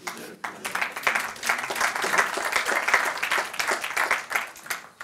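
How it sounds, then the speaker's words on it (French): Award ceremony audience applauding the Stylo d'Or 2017 laureate, steady, fairly close clapping from a moderate crowd lasting the whole stretch, with no talk over it. "Sous vos applaudissements."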